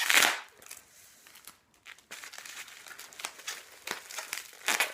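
Plastic and paper packaging crinkles and rustles while a Degusta Box food subscription box is unpacked, with a loud crackling burst at the start followed by steady, close handling noises.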